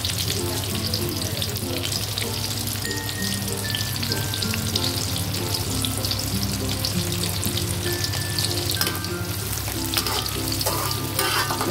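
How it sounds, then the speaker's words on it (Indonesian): Onions sizzle and crackle steadily in hot reused chicken-frying oil, a continuous loud frying hiss with occasional stirring scrapes, close by. "Ini akan saya tumis sampai dia harum, sampai dia layu dan harum ya."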